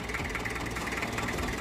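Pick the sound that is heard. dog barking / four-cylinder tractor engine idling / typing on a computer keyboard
four-cylinder tractor engine idling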